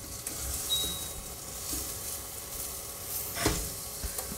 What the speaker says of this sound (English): Time to flip over the steak.